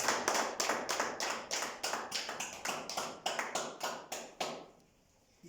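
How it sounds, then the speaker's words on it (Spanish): A church congregation claps for the Lord in a strong steady rhythm, close and bright, for about five seconds before the claps stop and the room falls nearly silent. "Denle aplausos al Señor"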